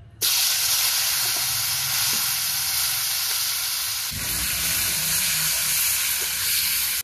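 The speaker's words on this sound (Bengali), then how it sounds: "কড়াই তেল একদম টনটনে গরম হয়ে গেছে, এখনই মাছগুলো দেব" Small taki fish hit very hot oil in a wok, setting off a loud continuous sizzle and spatter that swells further midway and holds steady, with no talk.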